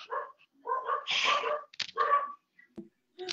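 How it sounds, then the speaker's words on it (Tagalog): Dogs bark and yip in short excited bursts, close by, with whimpering sounds between the barks and brief gaps of silence. "Masaya ang aming mga aso."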